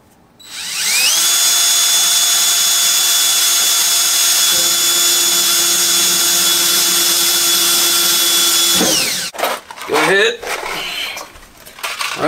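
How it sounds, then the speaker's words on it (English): A power drill bores a hole into an Ikea Rudsta glass cabinet with a loud, steady whine that holds for about eight seconds, then stops. Some clattering handling noise follows. "With that, we'll help drill a hole."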